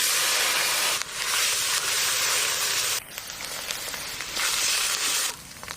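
Grated onion hits a hot pan and fries with a loud, steady sizzle and hiss, dipping briefly twice as the pan is stirred, then surging again; no voices.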